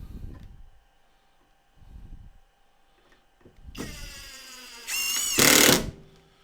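A power drill drives screws into wood while walls are fitted inside a tour bus conversion, whirring in two rising bursts, the second louder and higher, after quiet knocks and handling noises.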